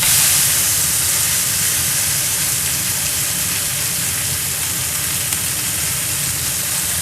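A steak coated in peppercorns sears in a scorching hot cast iron pan, giving a loud, steady sizzle and hiss that runs unbroken with no voices.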